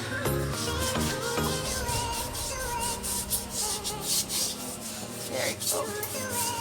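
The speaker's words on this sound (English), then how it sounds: "I'm trying to scrub it right now" Scrubbing the glass of a 50-gallon aquarium tank with vinegar to lift water marks, a steady rough rubbing that repeats in short strokes, close and fairly loud, with a brief spoken comment at the start.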